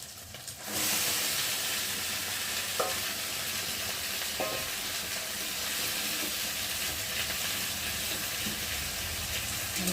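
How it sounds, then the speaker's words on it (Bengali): Chicken being sautéed in a hot pan, a loud continuous hissing sizzle that starts abruptly as the meat goes in and holds steady, with occasional stirring scrapes and clicks, no talking. "আমি এখন চিকেনটাকে দিয়ে ভালো করে কষিয়ে নেব"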